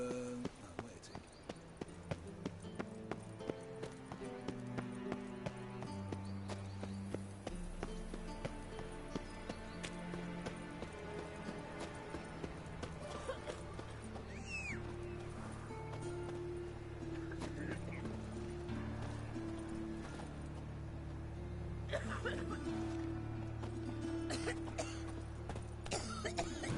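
Horse hooves galloping in The Witcher 3 video game, a steady rhythmic clip-clop running throughout under game music and occasional talk.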